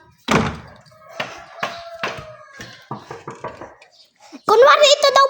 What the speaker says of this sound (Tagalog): May kumakatok daw.